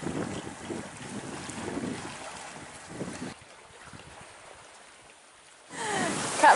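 A faint breath of mistral wind moving over a sailboat at sea in the Mediterranean makes a soft, broadband rush of air buffeting the microphone, quieter through the middle and swelling into a stronger gust at the end, with no talking.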